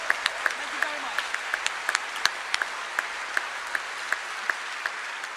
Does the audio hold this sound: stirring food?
no